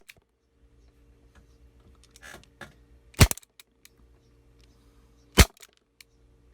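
Elite Force CO2 airsoft revolver firing, two sharp loud cracks a couple of seconds apart, near and isolated, with faint handling noise between.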